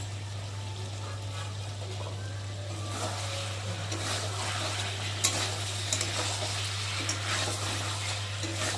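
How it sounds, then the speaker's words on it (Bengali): Chicken cooks in a covered pan being uncovered and stirred, a steady sizzle under scraping spoon strokes and soft clatter against the pan, with a constant low hum in the background. "বন্ধুরা চলো এবার ঢাকাটাকে খুলে একটু ভালো করে নেড়ে দেবো"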